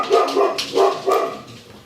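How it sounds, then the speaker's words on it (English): A golden retriever barks in the background, a few close, repeated woofs in quick succession, fairly loud with no talking over them. "Have a dog barking in the background."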